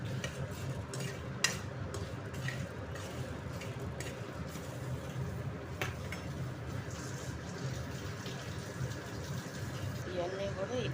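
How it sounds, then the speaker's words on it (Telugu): Cumin, coriander seeds and dried red chilies fry in a pan on low heat, a continuous soft sizzle with occasional stirring scrapes and clinks, under a person talking. "ఇందుట్లో జీలకర్రను ధనియాలు ఎండుమిరపకాయలు ఫ్రై అవుతున్నాయి."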